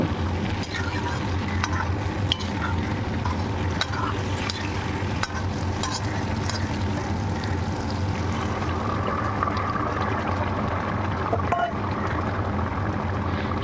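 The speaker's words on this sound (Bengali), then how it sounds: "সেই ভেজে রাখা সেদ্ধ ডিম ও কাঁচা লঙ্কা দিয়ে আবারও আলতোভাবে নেড়ে চেড়ে মিশিয়ে দিয়ে" Fried boiled eggs and green chillies being gently stirred in a pan of egg curry, a loud continuous sizzle with rustling scrapes of the spatula throughout.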